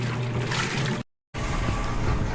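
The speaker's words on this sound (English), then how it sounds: "So it's finally started the rinse cycle, or the spin, was it? Yeah, the rinse." Sloshing, churning water inside a Whirlpool washing machine on its rinse cycle, a constant close, fairly loud swirl with a short silent break partway through.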